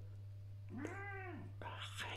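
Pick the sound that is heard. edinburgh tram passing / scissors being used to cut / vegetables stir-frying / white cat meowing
white cat meowing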